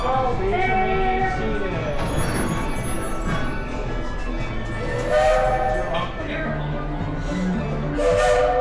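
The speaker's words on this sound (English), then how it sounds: "Train is still in motion." The Walt Disney World Railroad train at Magic Kingdom rolls along with a loud continuous rumble and rattle, a whistle-like tone briefly sounding, while a voice speaks over it.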